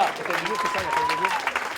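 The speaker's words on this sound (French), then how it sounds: "On l'applaudit une nouvelle fois à notre ami Beñat." A crowd at a Canigó skyrunning championship event claps for a runner named Beñat, a sustained patter of applause under a continuing voice over a loudspeaker.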